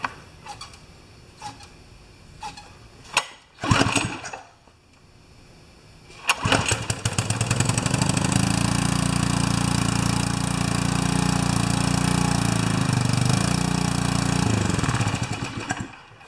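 A small pressure washer engine that had an unloader problem, with a few clicks and pull-start attempts, then it catches and settles into a steady loud running drone, up close.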